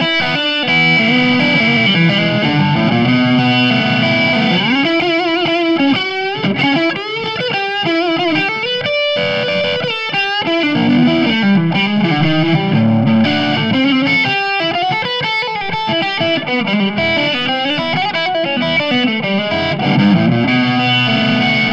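Distorted electric guitar plays continuous blues lead phrases dialed toward a classic blues tone, loud and unbroken with no talking.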